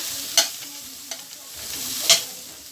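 Vegetables and fish, with peppers and courgettes, sautéing in a pan, giving a steady soft sizzle punctuated by a few sharp stirring clatters of a utensil against the pan.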